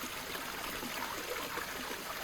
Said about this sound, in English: you've got to give them a good rinse in running water